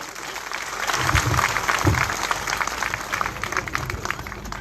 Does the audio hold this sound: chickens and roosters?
no